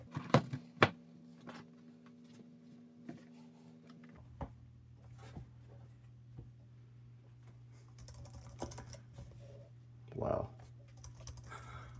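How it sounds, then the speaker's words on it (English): Keys clatter on a 2008 titanium MacBook Pro keyboard in sparse, uneven taps and clicks over a low steady hum, with a quick exclamation from a person nearby. "It's my first time ever typing on one of these."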